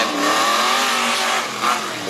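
Bronco stock truck racing through a turn at a tough truck event: close, loud, continuous engine roar with a tyre squeal near the end.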